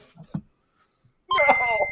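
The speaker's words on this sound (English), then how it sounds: "Computers. Beeps. Boops." Electronic computer beeps in a game music quiz, a short burst of bright warbling tones that cuts in suddenly after near silence and a couple of faint sounds.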